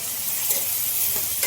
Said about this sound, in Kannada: ಫ್ರೈ ಮಾಡಿಕೊಂಡ್ರೆ ಸಾಕು